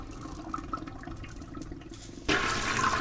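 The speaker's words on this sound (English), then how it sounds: "Let's press the flush." A toilet flush in the point-and-click game Deponia: a quiet stretch of low background, then a sudden loud rushing swirl of water that stays strong to the end.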